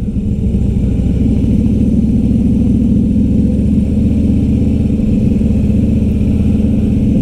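Can-Am Spyder three-wheeled motorcycle engine running steadily, a loud, even low rumble held close for the whole stretch with no talking.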